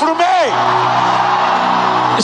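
A church congregation screams out loud together at a revival service, a sustained roaring mass of voices that starts with one rising shout and holds loud and dense throughout.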